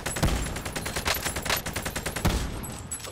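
Rapid bursts of gunfire in a shooter video game, loud, dense cracks in quick succession with two heavier booming shots standing out, no one talking over it.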